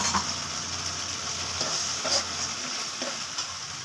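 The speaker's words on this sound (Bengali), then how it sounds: "পেস্টটা দিয়ে একটুখানি কষানো হোক।" Cashew, white sesame and green chili paste sizzles and fries in a pan for shahi paneer, a steady crackling hiss with occasional scraping stirs.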